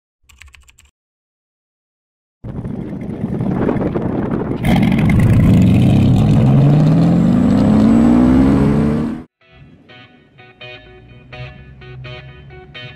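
Devel Sixteen hypercar starting off and accelerating, a loud rising engine roar building over several seconds and then cutting off abruptly, followed by quieter clicking and background noise; no talk.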